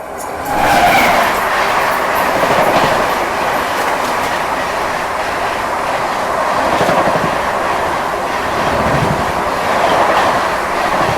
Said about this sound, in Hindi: सामने आ भी गई है सियालदह राजधानी